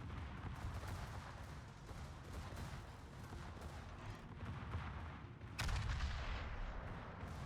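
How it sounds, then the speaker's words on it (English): Anti-aircraft guns firing in the World of Warships naval video game, a continuous rattling barrage of rapid shots under steady rumbling, with a sharper, louder burst near the end. "AA guns primed. Fire."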